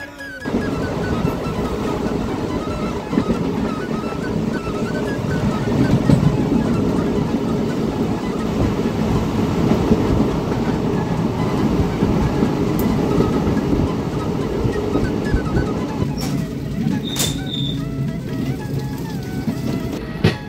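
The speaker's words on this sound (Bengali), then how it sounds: "ট্রেন ছেড়ে দিল" Passenger train pulling out of Jhajha station, a loud, steady rolling rumble with faint rhythmic rail clatter lasting throughout, with a brief high squeal near the end.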